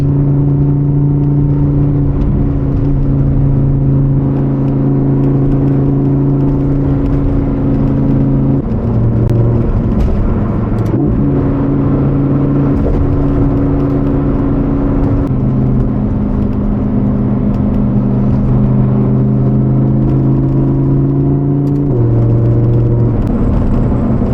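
Lamborghini Huracan Evo Spyder with a 5.2 V10 driven along a canyon road, a loud, close engine drone heard from inside the car, holding steady pitches with shifts between gears and no talking.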